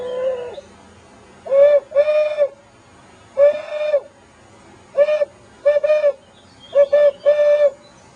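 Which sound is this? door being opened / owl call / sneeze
owl call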